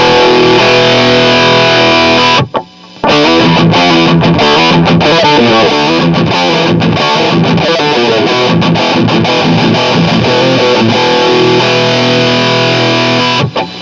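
Electric guitar run through a lightly set boost pedal into an amp with distortion, played in a dense, sustained riff with a brief gap near the start, loud and continuous throughout.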